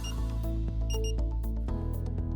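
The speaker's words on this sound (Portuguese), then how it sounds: "Um bip duplo repetido, semelhante ao de um despertador, indica que o estimulador está totalmente carregado" A charger's electronic double beep repeats steadily like an alarm clock, sharp and close, with no other sound around it.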